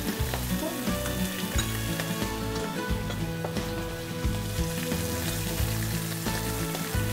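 Food browning in an Indian kadhai, a continuous sizzle with repeated rhythmic scraping strokes as it is stirred, heard close and without speech.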